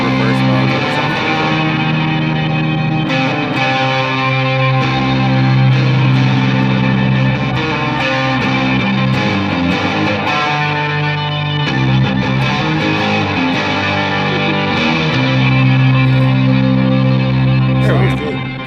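Catalinbread Dirty Little Secret Deluxe pedal in a weird reverse mode, with sustained distorted guitar chords swelling through heavy reverb and echo, dense and loud throughout, voices faintly present underneath.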